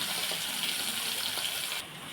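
Tamarind water is poured into a cooking pan, giving a steady liquid gush and hiss that runs for about two seconds before easing off.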